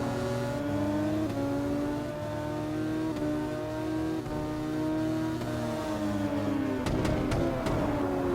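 Superbike engine in the racing game VRider SBK revs hard through a lap, its loud continuous whine climbing and dropping with gear shifts, with a sharper burst of rasping revs near the end.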